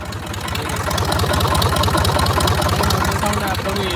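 A tractor engine idles with its silencer removed, producing a loud, close, rapid low thumping exhaust beat that stays even and unrevved throughout.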